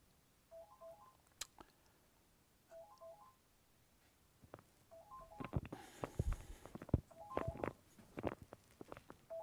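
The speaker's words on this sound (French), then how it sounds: "le téléphone de mon voisin." Short rising electronic tone sequences repeat from a neighbour's telephone several times, faint and distant, with soft tapping and clattering noises close by and no voices.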